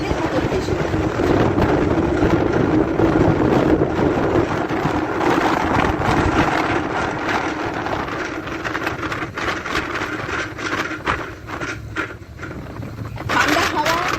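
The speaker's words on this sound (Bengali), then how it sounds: "ঠান্ডা হাওয়া উঠে এসে লাগছে" Cold wind buffets the microphone on the deck of a ferry crossing from San Francisco toward Sausalito, a steady loud roar with engine rumble underneath throughout.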